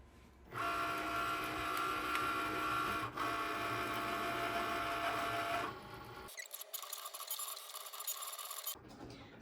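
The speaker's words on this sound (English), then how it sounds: "While we have our design being cut, let's just turn on the heat press." A Cricut machine cuts an iron-on vinyl design with a steady, close mechanical whir and scraping hum, shifting into a thinner buzzing tone partway through before a brief pause.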